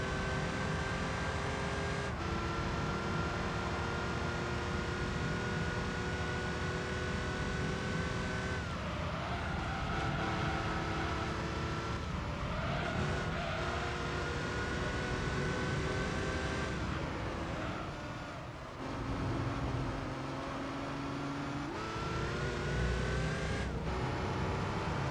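Race car engine in the video game Gran Turismo 3 roars steadily at high revs, pitch climbing through the gears with a brief dip and drop around a downshift to second on a straight, loud and continuous.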